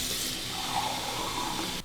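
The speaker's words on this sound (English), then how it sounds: "I'll soak the brush in some hot water." Hot water runs steadily from a tap as a shaving brush soaks under the stream, a continuous close splashing rush that ends abruptly.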